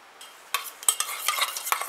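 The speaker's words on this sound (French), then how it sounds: "Et je mélange." A spoon stirring a homemade deodorant mixture made with tiger nut oil in a small container, producing a quick series of light clinks and scrapes, close and soft, with no speech.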